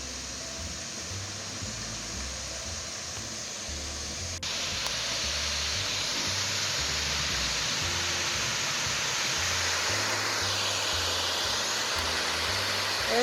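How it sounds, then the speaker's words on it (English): A large ornamental waterfall at the Doris Duke estate roars into action, a constant broad rush that jumps noticeably louder a few seconds in and then holds steady, with no talking. "So at 2 o'clock every day, a huge waterfall springs forth from this."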